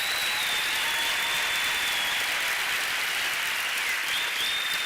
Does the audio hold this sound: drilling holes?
no